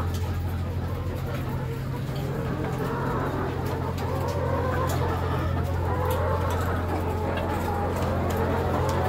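Thousands of laying hens cluck and murmur together in a crowded poultry house, with a steady low hum of machinery underneath.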